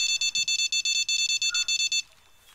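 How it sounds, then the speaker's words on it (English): Rapid electronic beeping from the Fishing Planet video game, a bite alert on a fishing line: a steady run of about eighteen short, evenly spaced high-pitched beeps that stops abruptly, leaving quiet background. "I hear a beep."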